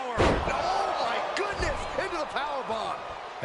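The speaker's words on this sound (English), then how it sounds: "you hear that thud? Crashing down like that" A heavy body slam thud in the WWE 2K25 wrestling video game, a loud low impact near the start and another around the middle, amid crowd noise and excited commentary.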